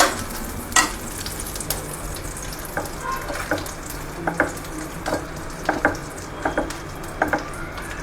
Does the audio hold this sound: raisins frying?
yes